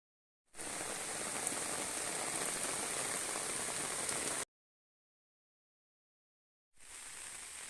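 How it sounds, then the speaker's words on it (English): Steady rain falls on a hike along the Ulster Way, a dense, even hiss of drops that cuts out to silence and returns partway through, with no voices. "raining again, and it's been like that all day."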